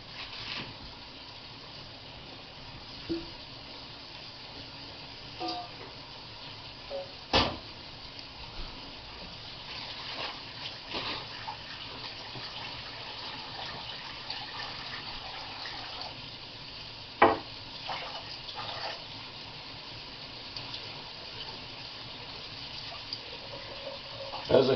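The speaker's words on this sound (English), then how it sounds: "So I got to rinse off the bowl." A tap runs steadily as a bowl is rinsed under it, a soft continuous gush with occasional clinks and splashes from handling the bowl.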